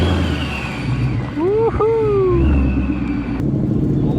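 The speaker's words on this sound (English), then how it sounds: "It sounds so perfect with exhaust and all, and the supercharger whine." A supercharged 2017 Mustang GT V8 rumbles steadily up close, with a high supercharger whine gliding up and down over the low drone as someone cheers.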